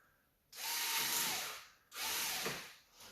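A power drill driving screws into a Gaggia Velasca espresso machine whirs in two bursts, each spinning up and winding down, loud and close with a short pause between.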